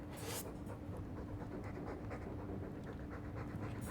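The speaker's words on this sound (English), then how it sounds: "All that noisy dog breath, day in, day out." Dog panting in the Dragon Age II video game, rapid rhythmic breathy huffs close up, steady and continuous without speech.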